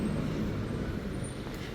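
Street traffic near a tram stop and crosswalk in Nice, France, a steady, loud roar of passing cars with no distinct gaps.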